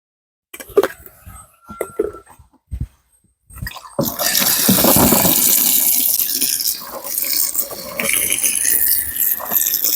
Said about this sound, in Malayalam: അപ്പം കുറച്ച് സോപ്പ് പൊടി ഇട്ട് നമുക്ക് ഇനി ഒന്ന് മുക്കിയെടുക്കാം